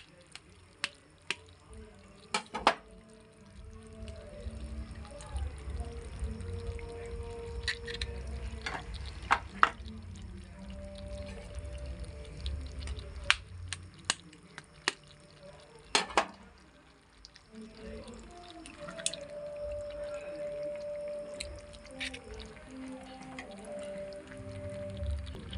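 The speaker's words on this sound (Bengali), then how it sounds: "ঝোলটা বেশ ফুটে এসছে।" An egg curry gravy simmering in a pan gives soft, irregular bubbling and dripping blips, with occasional sharp clicks and clinks from a utensil over a low background hum.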